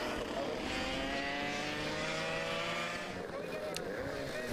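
Racing karts on slick tyres lap a wet track, with engines droning at a distance in overlapping, shifting whines under steady spray and hiss. A voice talks beneath the engine noise.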